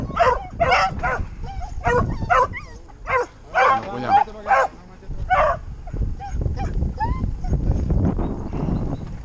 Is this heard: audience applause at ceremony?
no